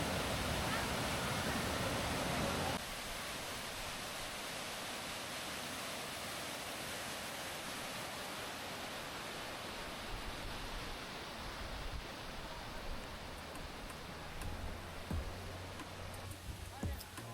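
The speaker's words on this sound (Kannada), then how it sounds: "ನೋಡಿದ್ರಲ್ಲ ಫಾಲ್ಸ್ ಹೇಗಿದೆ ಅಂತ" Bandaje Falls, a waterfall in the Western Ghats, gives a steady broadband rush of falling water that is loud and constant throughout, with faint indistinct voices of other visitors in the background.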